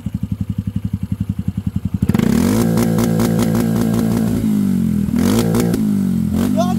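A motorcycle engine thumps at a steady idle pulse, then revs up as the bike gets moving, settling into a loud continuous drone with a couple of throttle surges near the end.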